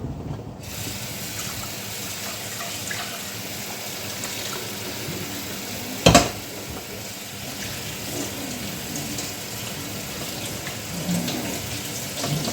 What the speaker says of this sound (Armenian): Բրինձս խաշվեց, բերեմ քամեմ, անպայման սառը ջրի տակ պետք է պահենք, քամեմ, սառը ջրի տակ պահեմ